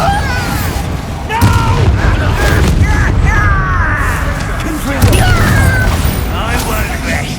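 Confringo and Bombardo blast spells in the Hogwarts Legacy video game, repeated booming bursts layered with whooshing magical tones under loud game noise, with voices speaking over the combat.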